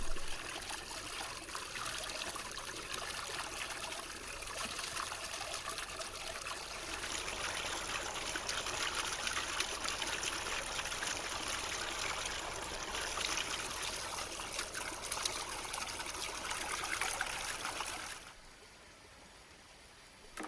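Water trickles and splashes steadily while vegetables are washed outdoors in the wilderness, a continuous soft flowing hiss for nearly twenty seconds that drops away abruptly near the end.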